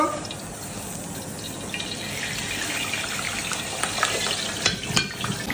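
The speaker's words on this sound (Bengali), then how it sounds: "দেখুন চিলি চিকেনের জন্য পেঁয়াজ ক্যাপসিকামটা ভেজে নিচ্ছি আগে।" Onion and capsicum frying in oil for chilli chicken give a steady, close sizzle that runs throughout, with a few louder scraping stirs near the end.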